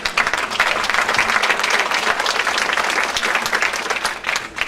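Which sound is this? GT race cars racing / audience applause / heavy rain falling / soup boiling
audience applause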